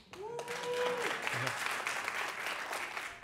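A crowd at a hackathon event breaks into sustained applause and cheering, a thick wash of clapping with a couple of shouts near the start, steady and loud throughout.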